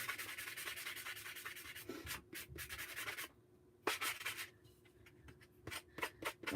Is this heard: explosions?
no